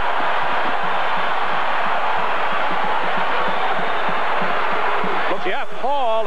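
A loud, sustained crowd roar fills Freedom Hall during the 1985 Tigers vs Cardinals college basketball game, with a commentator's voice coming in near the end.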